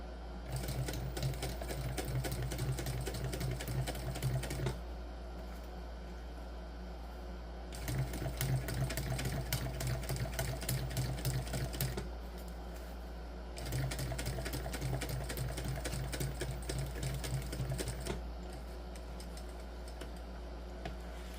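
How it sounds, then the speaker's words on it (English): A sewing machine top stitches a crossbody bag in three long runs of rapid steady needle clatter, with short pauses between them over a low constant hum. "Gotta sew at the seam allowance here"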